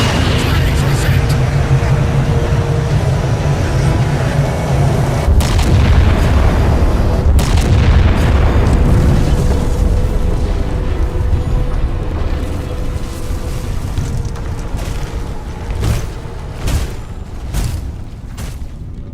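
Orbital artillery strike in a Halo game: heavy booming blasts roll in, with sharp impacts around the middle, then fade into scattered rumbling and cracks toward the end.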